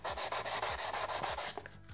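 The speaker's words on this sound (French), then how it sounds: "si on ponce juste comme ça en surface" Sandpaper worked by hand over scratched motorcycle crash bars, a steady rhythmic scraping in quick back-and-forth strokes, close and fairly loud, easing off at the end.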